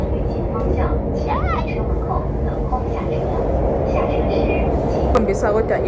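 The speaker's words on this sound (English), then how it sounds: "I wanna show you the train." Steady low rumble inside a train in China with rolling noise throughout, while people talk nearby and a few brief electronic tones chirp.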